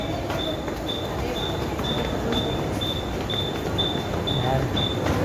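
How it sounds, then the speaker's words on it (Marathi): A train pulls into a railway platform on a trip out of Virar, giving a loud, steady rumble with a high beep repeating at an even pace, while a crowd murmurs faintly beneath. "ट्रेन आली आहे."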